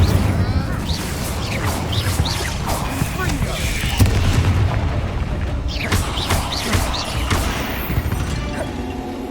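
An Incendio fire spell erupts in Hogwarts Legacy inside a tomb, a sustained roaring, crackling blast with booming low rumble and scattered crashes, loud and dense throughout.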